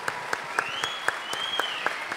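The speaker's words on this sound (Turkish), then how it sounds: "Onu da bir alkışlayalım yani." A few faint, evenly spaced hand claps from an audience at a live talk with football figures, soft and rhythmic at about four per second over a quiet background hum.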